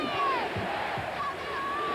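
Stadium crowd at a 1991 Mississippi State versus Tennessee college football game, a loud, sustained roar of many voices with shouts rising over it, filling the air continuously.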